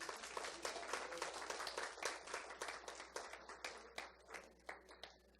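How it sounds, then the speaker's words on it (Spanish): Congregation in a church clapping together, a dense, rhythmic burst of applause that carries on steadily with distinct claps standing out, heard fairly far off and fairly quiet. "Si le va a dar un aplauso al Rey"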